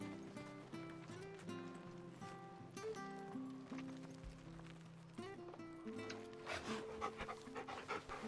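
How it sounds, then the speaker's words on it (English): Torgal, a dog in a video game, pants in steady rhythmic breaths mixed with game music and sound effects throughout, with no speech. "Torgal, pet the pupper."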